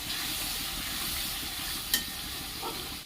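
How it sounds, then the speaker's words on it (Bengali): A spice mix with kasuri methi and Kashmiri chili powder frying and being stirred in a pan, giving a steady low sizzle with soft scraping and one brief clink of the utensil. "এই পদটার মশলাটা ভালো করে মেশাবো।"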